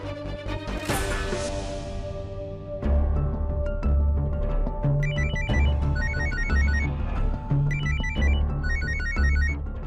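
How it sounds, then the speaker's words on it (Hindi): A telephone rings repeatedly in a steady pattern of electronic trills, loud and close, over a low background. "फोन उठाओ"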